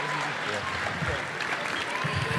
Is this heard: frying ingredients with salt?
no